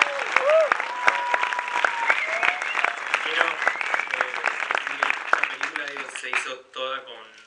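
Applause from an audience at a film festival debate, clapping mixed with audible chatter and voices, loud at first then thinning out near the end.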